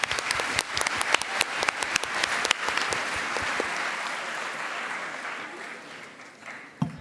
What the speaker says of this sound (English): Please join us again in giving them another round of applause.